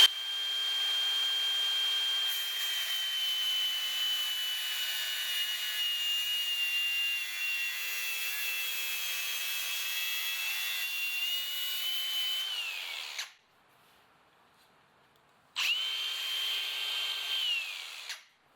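A power tool cutting through a stainless steel bolt, a steady, high, whining grind lasting about thirteen seconds, then a short pause before the grinding resumes briefly.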